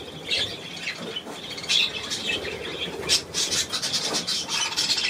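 Budgerigars squawking and chirping in a lively, continuous chatter, close by, with some wing flapping.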